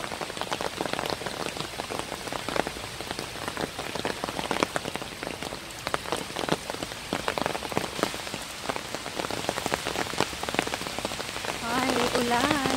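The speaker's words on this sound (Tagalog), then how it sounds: "Hindi na tumigil ang ulan. Wala nang katigilan ang ulan." Steady rain pattering on a hard surface in a park, dense and continuous, with a slightly heavier spell of drops toward the end.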